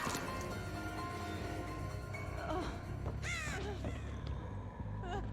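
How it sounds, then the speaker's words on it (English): Crow cawing as it flies in within the Dead by Daylight video game, a few harsh caws rising over dense game ambience and music. "Oh, that was a bird flying in."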